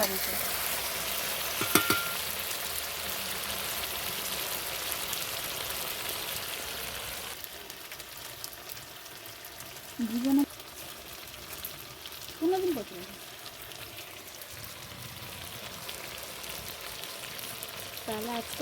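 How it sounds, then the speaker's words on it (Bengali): Spiced food frying in oil in a kadai hisses and sizzles continuously while a utensil scrapes and stirs, with a few sharp metallic clinks and scrapes against the pan standing out. "কড়াইতে নিচের দিকে ধরে যাচ্ছে সবসময় খুঁটি দিয়ে নাড়তে হচ্ছে"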